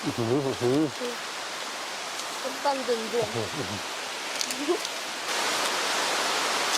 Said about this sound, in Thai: วันนี้ก็ฝนเทหนักมาแล้วตอนนี้